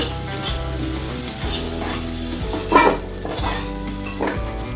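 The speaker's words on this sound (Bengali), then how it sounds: "আলুগুলোকে আমি ভালো করে একটু লাল লাল করে ভেজে নেব।" Potatoes fry in oil until reddish for a traditional Bengali aloo dum with peas, a loud close sizzle broken by repeated scraping stirs and a sharp metal clatter of utensil against pan.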